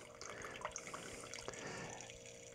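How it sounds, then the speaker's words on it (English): Wine pouring from a pressed bottle dispenser into a glass, a faint steady liquid trickle with small splashes and drips, close by and quiet. "Press it, and then it will pour some wine in there"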